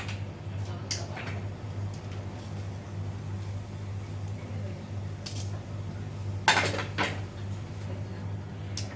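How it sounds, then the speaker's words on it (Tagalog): Pasta being stirred in a pot at home, giving soft scraping and clinking of utensil against cookware over a steady hum, with a sharper clatter near the end. "So haluin lang po ng haluin ng maayos ng aking wife ang ating pasta for tonight"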